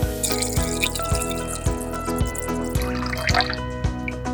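Fresh tap water pours and splashes steadily into the raw water tank of an RO water purifier, with regular rhythmic gurgles and drips close by, no voices.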